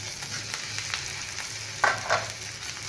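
Pakoras tossed into Schezwan rice frying in a pan, a steady close sizzle with a couple of sharp scraping stirs of a spatula near the end.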